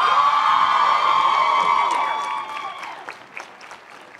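Applause and cheering at a law school commencement ceremony greet the staff member of the year, a loud crowd roar with whoops that fades into scattered clapping.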